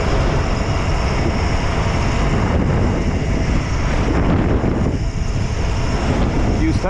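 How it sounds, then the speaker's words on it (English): Loud wind buffets the microphone during a ride along country roads, a dense, constant roaring rumble that stays heavy and unbroken throughout. "Now we're going into the wind. I'm sure it's loud as shit."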